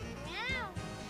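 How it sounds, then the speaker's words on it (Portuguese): A cat gives a single drawn-out, rising-and-falling meow, close and fairly clear, over a background hum. "Que é isso? Que é gatinho."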